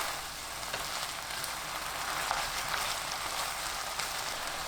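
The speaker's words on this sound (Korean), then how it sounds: "양파 넣고 1분 더 볶아주세요." Young radish greens stir-fried with onion and seasoning sauce in a pan, giving a steady, dense sizzle with a soft crackle throughout, close and even, with no talking.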